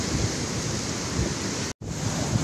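Constant roaring wind near a pier in Infanta, Quezon buffets the microphone, loud and unbroken apart from a brief moment of silence near the end.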